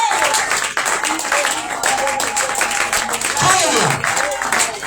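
A church congregation applauds and cheers for Jesus during a Shavuot 2025 service, a dense, steady wash of clapping and crowd noise that holds loud for the full five seconds, with voices mixed in.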